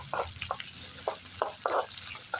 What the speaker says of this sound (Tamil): சுண்டைக்காய் குழம்பு கொஞ்சம் கடுகு போட்டேன், கொஞ்சம் வெந்தயம் போட்டேன், சின்ன வெங்காயம் போட்டு